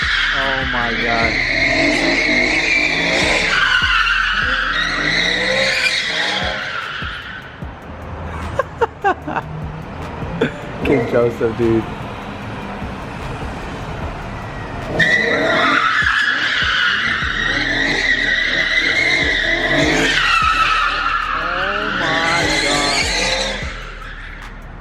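A BMW E92 drift car skids with loud, sustained tire squeals and revving engine, the screech rising and falling in long sweeps, with brief excited talk in a gap between passes.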